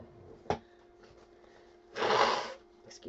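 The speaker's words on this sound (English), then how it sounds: "I have to blow my nose." A person blows their nose in one loud, broad burst of about half a second, preceded by a brief sharp sniff or click, with quiet room noise around it.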